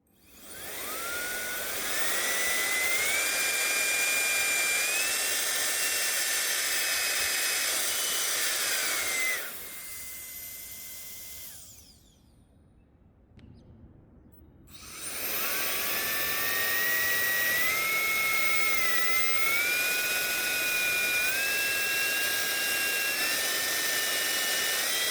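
A MECO ELEVERDE CA3 electric turbo fan air blower runs at a loud steady whine, its pitch rising and falling, then cuts out for a few seconds before spinning back up to full speed.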